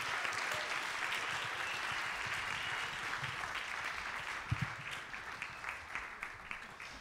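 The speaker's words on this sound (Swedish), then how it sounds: "Nu applåderar vi." A church congregation applauds together in a large hall, a dense, steady wash of clapping that carries on throughout, with a few sharper claps standing out toward the end.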